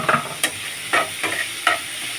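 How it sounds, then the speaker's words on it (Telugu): A tempering for upma crackles and sizzles in a pan, steady frying hiss punctuated by about four sharp spatula strikes or stirring scrapes, close and moderately loud. "మనకు పోపు అనేది బాగా వేగితే బాగుంటుంది."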